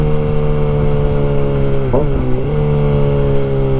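A 2023 Kawasaki ZX6R motorcycle engine drones steadily up close, then gives a quick blip of revs near the midpoint before settling back to a steady hum; no talking.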